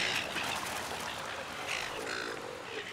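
Pelicans, seagulls and other water birds call near a fishing spot where people discard scraps, with short harsh quacking and squawking cries repeating irregularly over a soft outdoor background.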